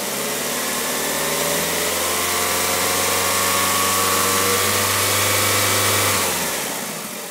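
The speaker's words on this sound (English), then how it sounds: "And now with if I rev the engine at the throttle here," Car engine revved with the throttle while diagnosing a bad alternator: a loud, steady mid-pitched engine roar held close by, with a low hum underneath that drops away near the end.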